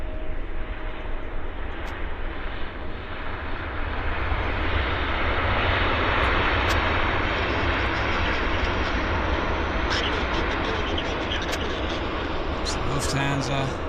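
A Lufthansa airliner taxis at Vancouver Airport, its jet engines giving a continuous broad roar that holds steady and loud throughout, swelling slightly midway.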